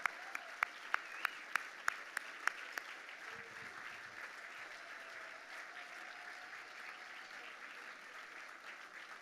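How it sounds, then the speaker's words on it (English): Gala audience at the Museum of American Finance applauding the museum trustees: a few sharp claps open it, then a steady, dense wash of clapping fills the room at moderate level. "One round of applause for the trustees."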